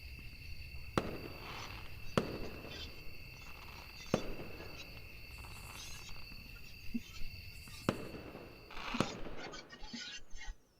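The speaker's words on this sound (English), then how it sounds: "Soon I heard the sound of the first rocket making its way into the night sky, after which it exploded into a pattern of color." Fireworks rockets exploding in the night sky in the video game Angels with Scaly Wings: a series of sharp, loud bursts spaced a second or two apart over a steady insect-like chirr, with a final burst near the end.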